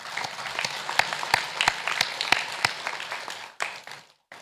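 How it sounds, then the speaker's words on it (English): A business round table audience gives a round of applause, dense clapping with a few sharp louder claps, thinning out and stopping near the end. "I think we need to give both India and Guyana a round of applause"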